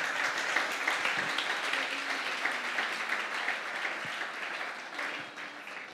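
A church congregation applauds God during a French-language sermon, a sustained, even wash of many hands clapping, fairly loud and continuous, tapering slightly near the end.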